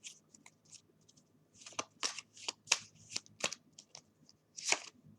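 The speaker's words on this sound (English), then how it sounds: "while I shuffle these" Tarot cards being shuffled by hand, a quiet series of crisp riffling and slapping bursts in an irregular rhythm, close up, with no talking.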